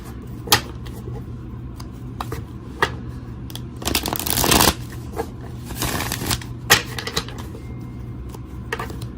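Playing cards being shuffled, with sharp taps and two longer riffling bursts in the middle, close and clear with no talking.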